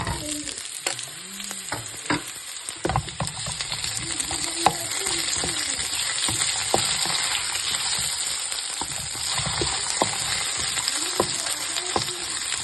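Long-cut potato pieces fry in hot oil in a pan, making a loud, steady sizzle with frequent clinks and scrapes as they are stirred, no talking.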